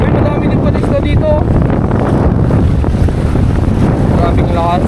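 Strong wind buffets the microphone over a roar of heavy sea waves in rough, stormy weather on open water, loud and constant, with faint voices and brief whistling tones now and then.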